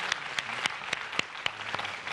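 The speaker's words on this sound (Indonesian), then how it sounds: "Boleh tepuk tangan dulu dong." An audience at an evening university event breaks into applause, with a dense, steady stretch of clapping that holds through the whole moment, and no talk.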